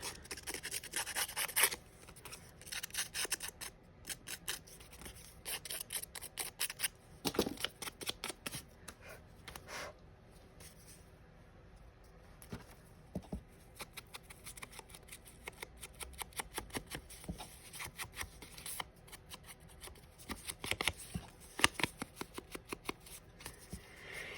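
Paper being torn by hand for a collage, repeated quick rips and rustling strokes up close in a quiet room, coming in bursts with short pauses between.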